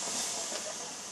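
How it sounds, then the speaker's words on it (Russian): A garment steamer's steam generator, just repaired after failing to produce steam, releases a steady, soft hiss of escaping steam, brief and unbroken with no voices. "Начал идти пар."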